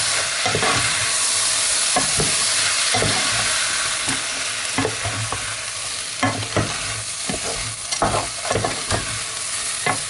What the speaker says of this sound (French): Et on remue toujours.